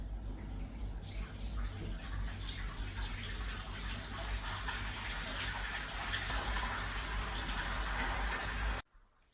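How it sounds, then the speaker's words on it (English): Water gushes from a tap into a bathtub with a steady, close, rushing roar that holds evenly for several seconds before cutting off abruptly near the end. "we're gonna go ahead and fill up this bathtub"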